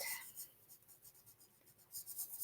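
Pencil or marker strokes drawn across paper at close range, a quick series of soft scratchy swipes, short and rhythmic, faint and alone.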